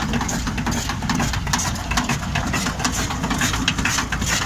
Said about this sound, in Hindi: वो ट्रैक्टर अपना आराम से पहले की लो में चलता रहता है